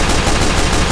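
A Team Fortress 2 sentry gun fires a loud, continuous rattling stream of rapid shots, dense and close, with no voices.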